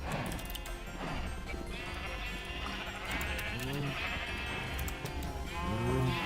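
Cows in the Minecraft GregTech New Horizons modpack, several short synthetic moos and bleats rising over a busy game soundscape with clatter and hits, no speech.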